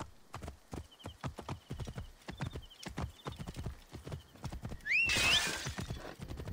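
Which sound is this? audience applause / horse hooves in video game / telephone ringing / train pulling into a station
horse hooves in video game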